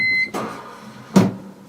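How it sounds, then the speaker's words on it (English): A short electronic beep from a heat press timer sounds once, followed by a couple of soft thuds nearby. "And we'll wait for the beep."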